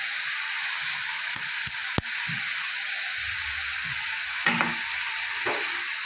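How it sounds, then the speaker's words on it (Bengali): Beto greens frying in a pan with turmeric and crushed lentil bori give a steady, close sizzle and hiss throughout, broken by a few light spoon clinks and stirring scrapes, with no voices. "আমি বড়ি দিয়ে ভাজছি"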